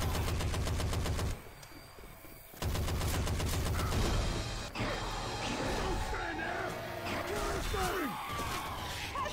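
Rapid gunfire in a Left 4 Dead 2 zombie shooter, dense bursts of shots that stop briefly then resume loud and continuous, with a player talking over the shooting.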